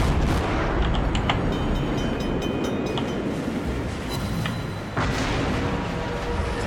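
Naval guns from warships in World of Warships boom over a dense continuous rumble, a few muffled blasts and clanks scattered across the stretch, one stronger hit near the end.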